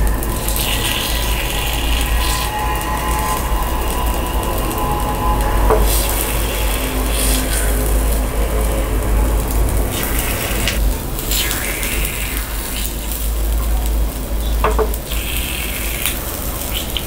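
Palm jaggery paniyaram frying in a pan after being flipped, a close steady sizzle with occasional scraping and rubbing sounds from the utensil.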